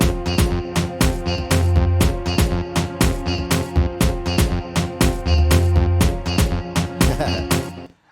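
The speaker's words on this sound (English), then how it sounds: "It's a nice bass line, very simple." A simple, sparse Afro Tech bass line built in FL Studio with a DX10 synth, pulsing in a steady repeating rhythm, loud and upfront alongside regular percussive hits, with no voices.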